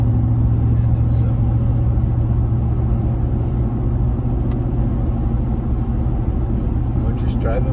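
A car driving on a road, a continuous low rumble of engine and road noise heard from inside, steady throughout with faint sounds on top.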